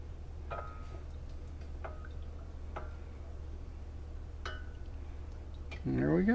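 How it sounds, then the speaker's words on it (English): A spoon clinks against a pot of honeysuckle tea being stirred while it reheats, light taps spaced every second or so over a low steady hum, with a brief louder clatter at the end. "You want to stir it the whole time you're reheating it."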